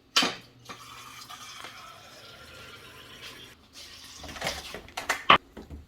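A cup of water poured into a blender while making aguachile with cilantro, a splashing trickle with a few sharp clinks of the jar, fairly faint and close.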